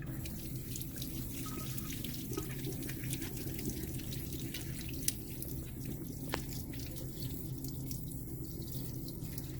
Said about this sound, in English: And rinse it off.